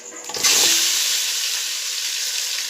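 Onions and tomatoes tipped into a hot pan of oil with whole spices erupt into a loud, steady sizzle, a quick clatter at the start settling into continuous bright frying hiss.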